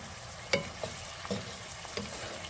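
Sauce being stirred in a pan over high heat for thickening, with a soft sizzle and several brief scraping strokes spaced irregularly, fairly quiet and with no talking.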